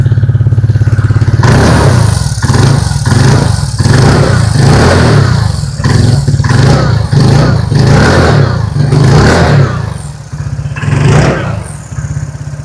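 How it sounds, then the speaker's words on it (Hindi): Exhaust of a 2026 TVS Ntorq 150 scooter recorded up close: a loud, steady engine drone broken by a series of quick throttle blips and revs, easing off near the end, with no voices. "अभी सुन लेते हैं एनटॉर्क 150 की एग्जॉस्ट नोट।"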